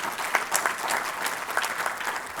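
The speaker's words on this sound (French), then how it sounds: "il faut l'applaudir à Polonia" Audience applause at an inaugural conference honouring a professor, with steady, dense clapping from a sizeable crowd throughout, fairly close and even, with no talk over it.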